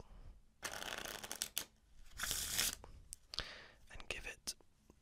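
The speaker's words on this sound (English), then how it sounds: "we'll shuffle it up" Close, quiet shuffling of a deck of playing cards for card magic: several crisp riffling bursts and softer sliding, rustling handling between them, with a soft whispering voice at times.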